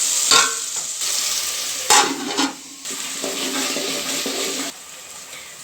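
Onions and cumin sauté in a pan for a Gujarati green mung curry, sizzling steadily while a spoon stirs and scrapes in a few louder bursts close by.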